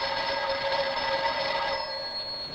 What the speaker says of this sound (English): First, answer the phone as soon as it rings.